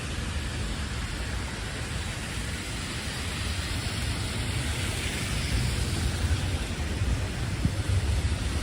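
Steady heavy rain with a low rumble of thunder during a Florida thunderstorm, a dense, continuous wash of noise that swells slightly louder toward the end.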